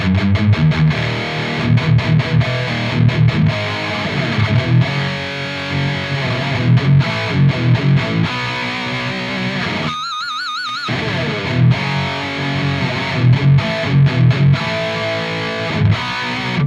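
An electric guitar through the SLO channel of an ENGL Steve Morse Signature 20 tube amp, heavily distorted and biting, plays loud rhythmic chugging riffs with sustained chords and a short pause before the riffing resumes.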